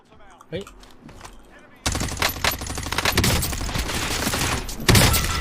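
Diamatti pistol fire in the video game Call of Duty Warzone: after a quiet start with a faint shot, a loud, dense stream of rapid gunfire breaks out and continues to the end, ending in one sharp burst.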